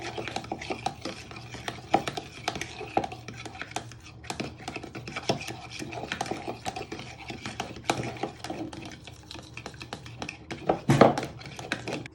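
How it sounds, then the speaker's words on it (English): Eggs beaten with a fork in a bowl for a coffee and almond cake, a steady, rapid clinking and scraping rhythm that continues close and clear for several seconds. "giving them a good beat with your fork"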